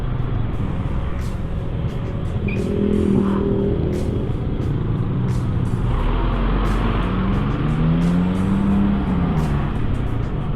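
Cars roll along a busy, uneven road near a cement factory in Ajibarang, with a steady traffic rumble, engines rising and falling as vehicles pass close by.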